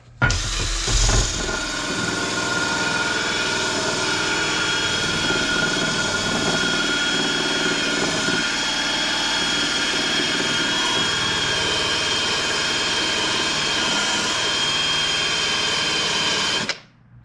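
A Craftsman wire brush grinds pitting out of metal with a loud, steady high-pitched motorized whine. It starts with a brief clunk and runs unbroken until it cuts off at the end, with no talk.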